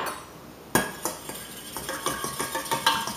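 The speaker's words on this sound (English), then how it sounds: "I'm going to take this egg yolk and I'm going to stick it in with a 1/4 cup of heavy cream," Egg yolk whisked into a quarter cup of heavy cream, a utensil clinking rapidly and steadily against the side of a bowl in a quick series of taps, close and fairly clear, with no voices.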